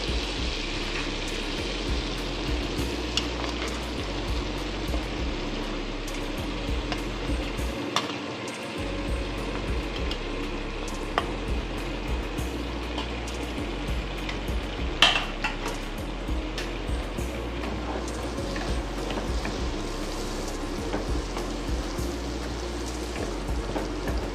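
Carrots fry in a pan for fried rice made with brown basmati rice, giving a steady, close crackling sizzle with occasional stirring scrapes that runs unbroken throughout.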